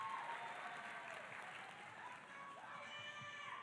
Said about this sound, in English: You can clap in between any of these because these are all good.